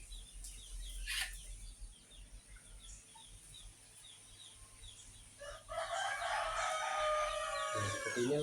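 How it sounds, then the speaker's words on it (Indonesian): Village chickens feed in the morning, with a rooster crowing and hens clucking, quieter at first and then a busy, close burst of calls filling the last few seconds. "seperti inilah ya kegiatan ayam di pagi hari"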